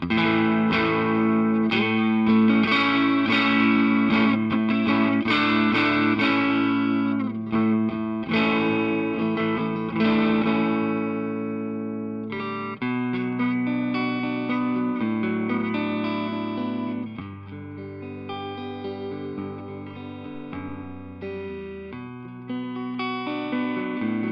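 Distorted electric guitar chords ring out with a thick, saturated tone through a cranked custom 5F1 5-watt tweed tube amplifier, sustained and slowly shifting, with no voices.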